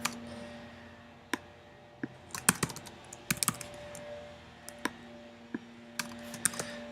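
Scattered keystrokes and clicks on a computer keyboard, irregular and close, over a steady low electrical hum with no speech.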